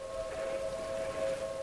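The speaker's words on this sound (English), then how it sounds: "I can't believe the sirens are still going off." Tornado warning sirens in the narrative game Three Fourths Home, a steady sustained wailing tone droning faintly in the distance without pause.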